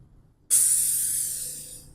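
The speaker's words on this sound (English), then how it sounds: "Spray this with some D2." After a brief quiet moment, a spray bottle lets out one sustained hissing burst of D2 cleaner onto a headstone that slowly fades, close and fairly loud.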